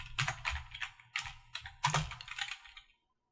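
Close, clicky keyboard typing in quick bursts of keystrokes with short pauses, stopping abruptly near the end.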